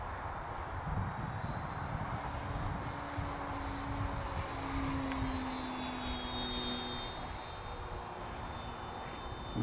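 An XFLY-Models 1.2m Glastar RC trainer plane flies in wind and rain, its electric motor whining steadily at a distance, the pitch rising and falling as it passes, over gusty outdoor noise.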